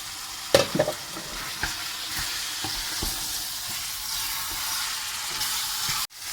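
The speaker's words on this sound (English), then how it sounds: "Now we're going to add our finely chopped tomatoes from the food processor and start mixing it well." Chopped tomatoes and red wine stirred in a hot pan for a beef lasagna sauce: a steady broad sizzle with scraping stirs, heaviest near the start, then a brief drop at the end.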